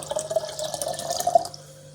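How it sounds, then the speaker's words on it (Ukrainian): Cold water pours steadily into a jar of homemade kvass for about a second and a half, a light trickling splash that stops near the end. "можна доливати зверху звичайною холодною водою, щоб була повна банка"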